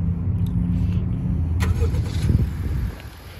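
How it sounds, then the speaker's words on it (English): A 2019 Honda CR-V engine starts up with a brief crank and settles into a low, steady idle close by, then the sound drops off near the end. "let's turn on the car and check out what it's got to offer"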